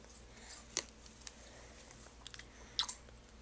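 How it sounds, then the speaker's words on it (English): A baby eats applesauce from a spoon for the first time, giving faint, quiet mouth and chewing sounds with a few small soft clicks from the spoon in an otherwise hushed room. "Eating some applesauce."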